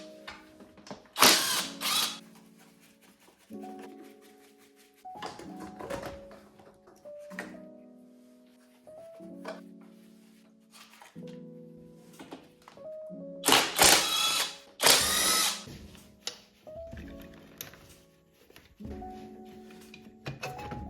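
Repeated ratchet and power-tool work on bolts of a BMW E36 upper intake manifold: short mechanical whirring runs with tonal hums, separated by pauses and punctuated by several sharp, loud clanks and rattles, all close by.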